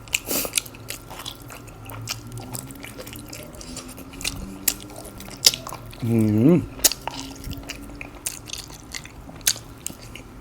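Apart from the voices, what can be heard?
chewing crunchy stewed beef tendon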